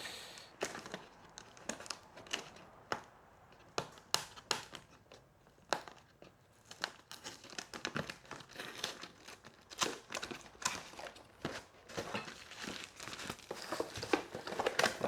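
Cardboard packaging of a charging station being unpacked up close, with steady crinkling, rustling and tearing of card and paper in irregular bursts, no voices.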